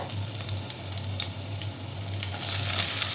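Chopped onion frying in hot ghee, a steady close sizzle that swells slightly near the end, with a few faint stirring touches and no speech.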